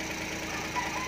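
A car engine runs with the wire pulled from its number 3 ignition coil, giving a steady, close, low rumbling idle with a faint uneven shake.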